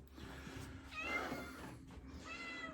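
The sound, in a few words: cat meowing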